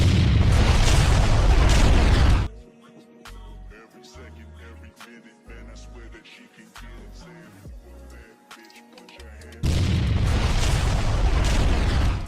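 A Spirit Bomb energy attack in the Dragon Ball Rage video game erupts in a loud, sustained roaring blast, cuts to a quieter stretch of scattered low thuds and pops, then the massive explosion roar returns.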